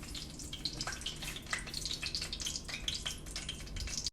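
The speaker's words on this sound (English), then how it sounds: "Now that my oil is bubbling and crackling" Hot oil bubbles and crackles in a pan heating for spinach, onion and potato pakoras, a steady dense fizz with scattered sharp pops running throughout at close range.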